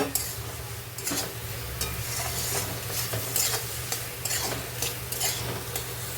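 Fried prawns being stirred into spice paste in a pan for prawn malai curry, giving a steady close sizzle with repeated scraping and stirring strokes throughout, no talking.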